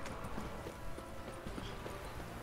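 Rhythmic hoofbeats of a horse named Hamlet galloping in The Witcher 3, steady and close, over a game music and ambience bed.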